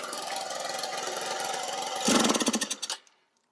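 A cheap buggy's small engine with a suspected carburetor fault runs with a rapid chugging putter, then surges louder and rougher before cutting out abruptly into silence, close up with no talking.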